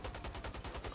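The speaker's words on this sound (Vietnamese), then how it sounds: "bây giờ mình sẽ sử dụng cái cây súng máy đi các bạn" Machine gun firing in the video game GTA 5, a continuous rapid string of sharp, evenly spaced shots, loud and close, with no talking.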